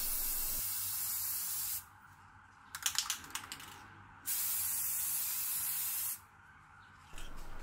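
A spray can applies metallic paint to a BMW E30 brake caliper in two steady close hissing bursts, with a short quieter pause between them and a brief rattle in the gap.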